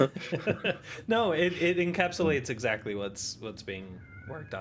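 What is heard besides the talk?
cat crying, meowing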